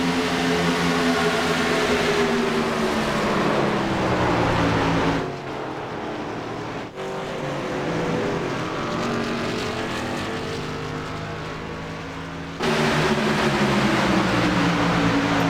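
Race trucks roar around the oval in a Truck Series race at Michigan, loud, dense engine drone with shifting pitch as they bump and pile up, the roar dipping briefly mid-race before surging back at full volume.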